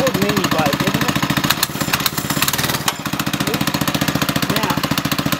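A Doodle Bug 97cc mini bike engine runs loud and close with a fast, even popping idle that briefly roughens and dips midway before settling back into its steady pulsing rhythm.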